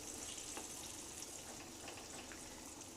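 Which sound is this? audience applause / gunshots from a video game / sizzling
sizzling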